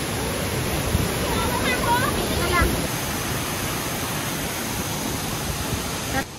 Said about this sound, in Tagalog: Silver Mine Waterfall